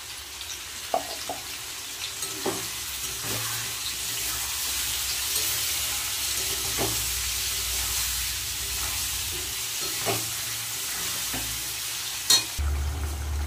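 Ground spice paste of ginger, cumin, dried chilli and tomato stirred into frying potato, pointed gourd and pumpkin, a steady soft sizzle with occasional scraping stirs and a clunk near the end.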